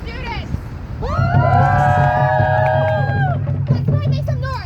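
Crowd at a union rally cheering and whooping for students, a loud sustained roar with rising shouts over a low rumble, fading after a few seconds into scattered voices.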